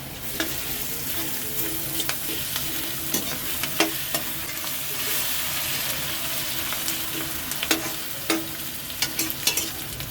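Ginger and chilli paste frying and being stirred in a pan for pav bhaji: a steady, close sizzle with scattered scraping clicks of a spoon, no talking.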